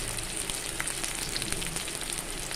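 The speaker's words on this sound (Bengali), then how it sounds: "ভাজা গন্ধ বেরোলে এর মধ্যে দিয়ে দিলাম কালো জিরে পেঁয়াজ আর ছাড়িয়ে রাখা ছয় থেকে সাত টুকরো রসুন" Black cumin, onion and six or seven peeled garlic cloves sizzle steadily in hot oil with chilli for a teasel gourd bharta, a dense continuous frying hiss with small crackles throughout.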